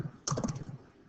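A few quick plastic key presses on a calculator keypad sound close and faint in a quiet room, as a short cluster of soft clicks.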